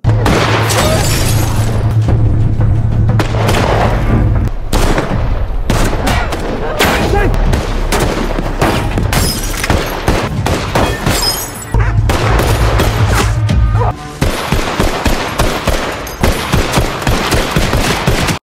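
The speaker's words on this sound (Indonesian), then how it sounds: "Seketika Wilder pun terlibat baku tembak dengan anak buah Big Cat di halaman depan." Intense gunfire from a film shootout in a front yard, with dense rapid bursts of shots and booms that continue almost without a break, loud and chaotic, mixed with background score and faint voices.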